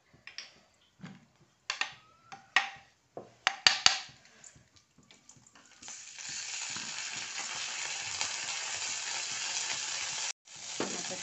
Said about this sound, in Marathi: त्या तुपातच आपले बदाम आणि मनुके थोडे परतून घेते.